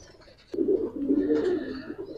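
Giribaz pigeons coo on a pigeon farm, a warbling burst that starts abruptly after a quiet moment and rolls on for over a second, close and moderately loud, with no talk.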